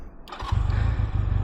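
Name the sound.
Honda Rebel 250 motorcycle engine starting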